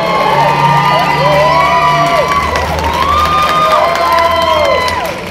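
A live studio audience at a Spanish-language TV broadcast cheers loudly and whoops continuously, with shouted voices rising and falling over a sustained crowd roar.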